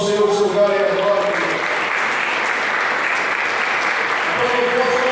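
A church congregation applauds steadily and loudly in response to a preacher's call to clap for the Lord, with the dense clapping continuing throughout while voices carry faintly beneath it.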